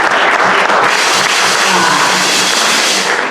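Congregation applauding and cheering to acclaim the Lord at a women's church gathering, a loud, dense burst of clapping that holds steady for a few seconds before easing slightly.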